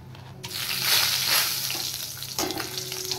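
Whole garam masala spices land in hot oil with dried red chilli, bay leaf and cumin, setting off a sudden loud sizzle that crackles and then settles into steady frying, close up with no talking.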